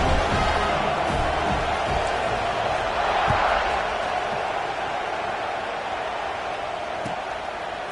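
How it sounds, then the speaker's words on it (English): A stadium crowd in the College Football 26 video game keeps up a steady, loud, dense roar after a score, with a few sharp thumps rising out of the wash and a commentator talking over it. "this crowd is buzzing after that last score."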